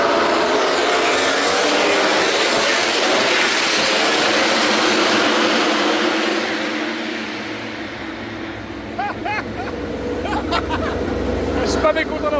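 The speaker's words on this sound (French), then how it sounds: "Et ça y est, les moteurs ont démarré." MotoGP motorcycle engines roar loudly before the race start, a dense sustained drone that fades after a few seconds into softer engine hum with crowd noise and brief revving tones.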